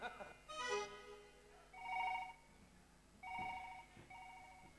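A telephone rings during a comic Kannada village stage play, giving faint, repeated electronic ring bursts after a brief voice at the start, heard over a quiet background.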